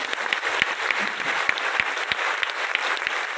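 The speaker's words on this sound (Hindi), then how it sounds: "जोरदार तालियां बजाएंगे" Enthusiastic audience applause at a business marketing seminar, a brisk, dense patter of many hands clapping close by with a few sharper individual claps standing out, continuing steadily throughout.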